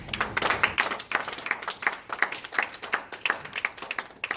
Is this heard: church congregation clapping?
yes